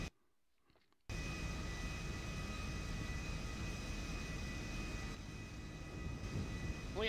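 A Nimbus aircraft in the FiveM game, its engine giving a steady, broad droning roar at fairly low level. The roar starts abruptly after a second of silence and holds constant to the end, with no talk.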